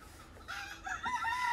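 A hen clucks and calls nearby in a short burst, with a rising, drawn-out squawk over quiet background.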